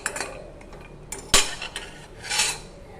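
Seven almonds dry-roasting in a pan for a homemade natural hair dye, stirred by hand, with scattered light clinks and scrapes and one sharp knock against the pan, close by with no talking.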